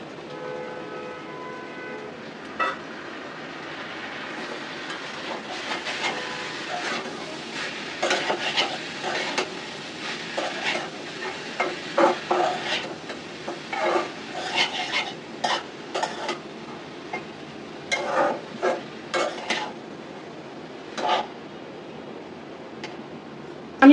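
Bitter gourd tossed into a pan of boiled potatoes, frying and being stirred, with repeated scraping and clattering strokes over a steady sizzle, close and fairly loud, no talk.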